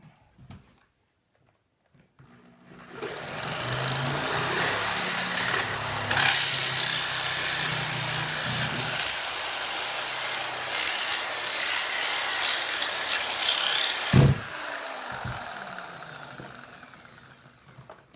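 A chainsaw engine on a minibike build starts after a short silence and runs loudly and steadily, with a sharp throttle blip near the end before it winds down.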